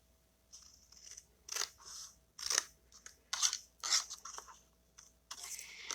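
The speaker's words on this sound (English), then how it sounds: "So we'll take this corner off and this corner off by cutting it at the score." Paper scissors snip through a cardstock corner along a scored fold line in a series of crisp, close cuts, roughly eight snips with short pauses between them and no talking.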